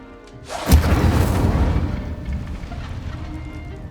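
A fire spell in the Hogwarts Legacy video game sets off a single loud close explosion: a sudden deep boom that rolls into a long roaring rumble and fades over several seconds.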